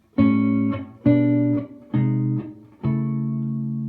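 Jazz blues rhythm guitar strums a three-note chord voicing four times at an even pace, each chord ringing briefly before the next, close and clear with no talking.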